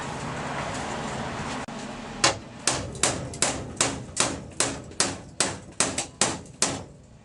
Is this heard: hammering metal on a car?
yes